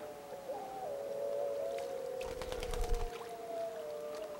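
Wolves howl in northern wilderness, heard faint and distant as long, sustained, gently gliding tones. A brief cluster of soft clicks breaks in midway.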